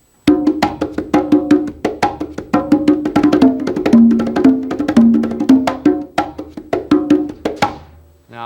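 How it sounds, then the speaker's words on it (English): Congas played in a tumbao with five-stroke rolls split onto the lower drum, a dense continuous stream of close, resonant hand strokes with deeper tones mixed in, ending abruptly. "if you're playing a tumbao again and you want to divide to the lower drum the 5-stroke roll, it would sound like this."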